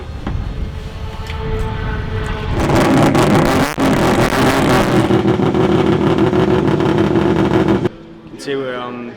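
A race car engine fires up and runs loud and steady for several seconds, a broad roar that drops away near the end, with voices talking over it.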